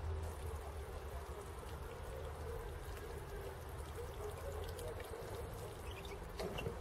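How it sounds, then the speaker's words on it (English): A steady, continuous stream of water pouring and splashing, close by, with no pauses throughout; fresh water watering in newly sown seeds on an allotment. "And a little watering in."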